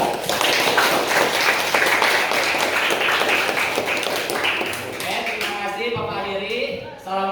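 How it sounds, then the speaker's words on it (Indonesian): A secondary-school class applauds at the close of a lesson, a sustained burst of many hands clapping together with voices mixed in, fading out near the end. "boleh tepuk tangan untuk 11 F2"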